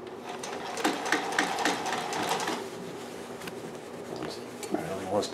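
A sewing machine stitches a patch onto blue jeans, a fast mechanical whir that runs steadily, then slows and pauses near the end, with a voice talking over it.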